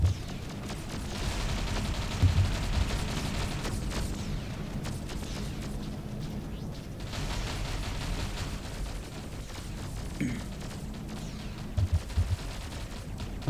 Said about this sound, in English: Are we all shooting the same target?